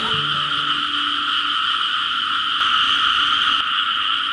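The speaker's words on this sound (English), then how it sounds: "the frogs across the street were going absolutely ballistic" A dense chorus of frogs croaking at night outside an old house in Thailand, loud and continuous with steady overlapping calls and a few low tones early on.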